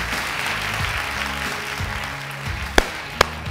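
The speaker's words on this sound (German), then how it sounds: "Vielen lieben Dank für diesen dröhnenden Applaus." An awards-ceremony audience at a banking and insurance summit applauds steadily, a dense, even wash of clapping that holds throughout, with two sharp clicks near the end and a low tonal hum beneath.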